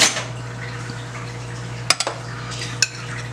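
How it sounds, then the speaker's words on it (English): Dry rub seasoning ingredients for oven BBQ ribs being mixed in a bowl, heard as soft scraping and stirring with a few sharp utensil clinks against the bowl over a low steady hum. "what I'm gonna do is I'm gonna mix all these ingredients"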